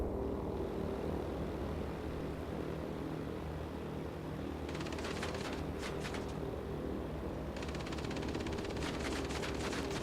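Guns on a B-32 bomber rattle in bursts within a flight combat video game, two clusters of rapid fire cutting through a steady droning aircraft engine.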